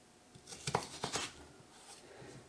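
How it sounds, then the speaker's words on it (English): A kitchen knife slices food into pieces on a chopping board, with a quick run of close, soft thuds and scraping cuts over a light background hiss. "And we'll cut it into slices."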